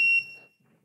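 A tick timer switched on for a three-minute countdown emits a single sharp, high electronic beep that fades quickly into quiet.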